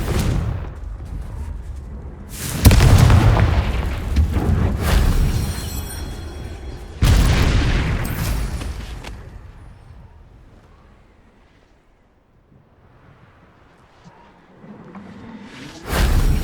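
In the Hogwarts Legacy video game, Bombarda and Confringo spells fire in loud, booming blasts with whooshing impacts. Two big bursts are followed by rumbling decay, then a quieter stretch and another hit.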